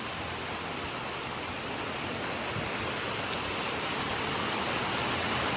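Heavy rain pours down steadily in Florida, a dense, continuous hiss of downpour close by with no pauses and no voices.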